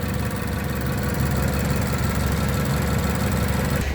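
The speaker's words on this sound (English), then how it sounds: "Okay, with the motor running." A car motor idles steadily close up, loud and even with a constant low rumble, and no voices over it.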